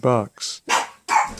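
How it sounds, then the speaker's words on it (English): A dog barks nearby, four loud, sharp barks in quick succession with short gaps between them, and a voice can be heard talking around them. "Sorry about the dog barking"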